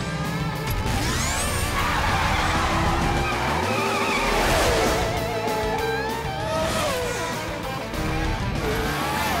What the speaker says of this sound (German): Jetzt probieren wir mal aus, wie schnell dieser Rennwagen fahren kann.